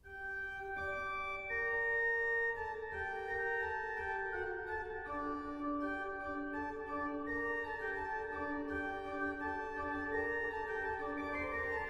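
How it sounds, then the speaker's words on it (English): A Bach-style fugue subject enters alone and is then layered by further melodic voices, sustained keyboard-like tones moving in steady counterpoint at an even, moderately loud level with no talking. "By and large, a fugue sounds like this."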